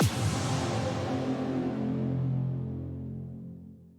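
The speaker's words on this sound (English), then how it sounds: "I found a Xylent impact that worked really well for this build" A single heavy cinematic impact hits at once, followed by a long, booming rumble that slowly darkens and fades over several seconds.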